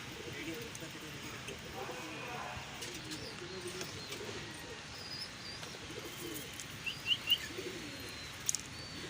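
Pigeons coo softly in the background on a rooftop while a person talks over them, with a few brief chirps and a light rustle near the end.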